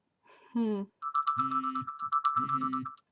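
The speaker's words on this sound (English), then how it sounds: "alarm on my phone" A phone alarm rings in a quiet room, several short bright melodic tone bursts in a rising and falling pattern over about three seconds, close to the microphone.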